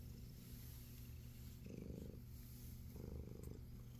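A low, soft purr rumbles steadily, swelling slightly in two waves, close and quiet.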